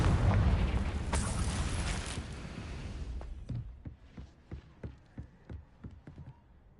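A Confringo blasting spell goes off in Hogwarts Legacy: a loud fiery burst with a roaring tail that fades over a few seconds, then a run of sharp separate pops and taps, with no voices.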